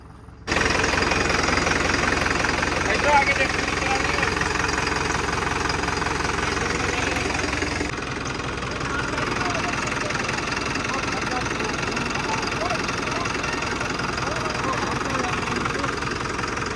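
A tractor engine runs steadily in farm fields during corn silage making, a loud, continuous rumbling drone that carries through the whole stretch with a person talking over it.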